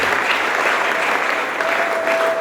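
Worshippers in a church congregation applaud for Christ during a testimony gathering, a continuous wash of many hands clapping at moderate volume for a couple of seconds.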